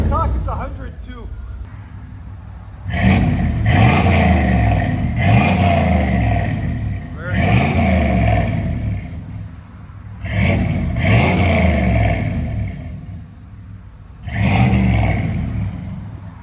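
A 1994 Chevy 1500 pickup with a 5.7L V8 and Flowmaster 40 Series exhaust revs repeatedly in four or five loud, deep bursts, each rising and falling back to a rumbling idle, with brief speech near the start.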